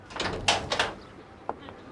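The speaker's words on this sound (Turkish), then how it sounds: "Ferhat aç kapıyı Ferhat" A door being knocked and rattled during a police arrest scene in a Turkish TV drama, with a few sharp knocks and bangs over a murmur of voices and room noise.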